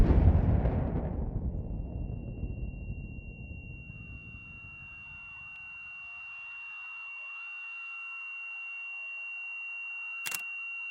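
A powerful bomb blast destroys a building's main entrance: a loud, deep boom hits at once and rumbles away over several seconds, then a steady high ringing tone lingers in near silence, with a brief sharp click near the end.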